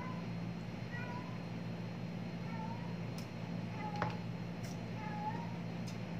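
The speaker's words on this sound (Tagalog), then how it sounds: "Yung pusa ko umiiyak." A cat meows several times at a moderate distance over a steady low background hum, each cry short and rising-falling.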